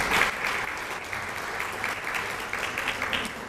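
Finalists at an awards event get a continuous round of applause from the audience. The dense clapping is moderately loud and fairly even throughout.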